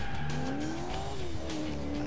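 Car pulling a long drift in Alarm für Cobra 11 Highway Nights, a loud, close tire squeal rising then easing in pitch over a rumbling engine, continuous throughout.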